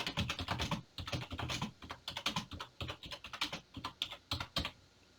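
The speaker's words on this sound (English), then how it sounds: "start typing what you want." Rapid, steady clatter of keys on a computer keyboard, close and crisp, with brief pauses between bursts of typing.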